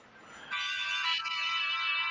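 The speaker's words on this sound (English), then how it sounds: "Sega. Yeah, that's my ringtone." A Sega-style phone ringtone rings out in one loud, bright electronic burst that starts suddenly about halfway through and holds steady to the end, with no talk over it.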